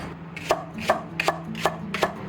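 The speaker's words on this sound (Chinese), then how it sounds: "料头我们就切点姜片跟大葱哈" Ginger slices and scallions being chopped on a cutting board, five crisp knife strikes at a steady, unhurried pace, close and clear over a low background hum, with no talking.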